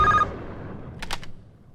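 A brief electronic telephone ring that fades out, followed by a short pair of mechanical clicks, close and fairly loud.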